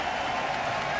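Stadium crowd at an MLS All-Star soccer match applauding after a goal, a dense continuous wash of clapping and crowd noise heard from a distance, with no single claps standing out.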